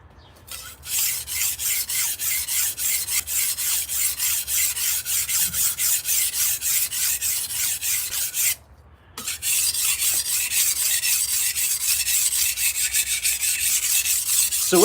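Knife blade being sharpened on a whetstone: a steady run of rhythmic rasping strokes, close and clear, pausing briefly partway through before the strokes resume at the same even pace.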